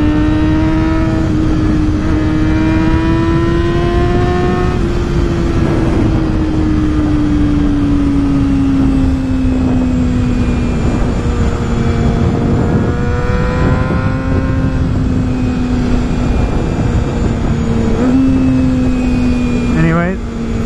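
Honda CBR250RR motorcycle ridden on a warm, humid day, its engine a loud sustained high whine that rises and falls through gear changes, with wind rush and a rider talking over it.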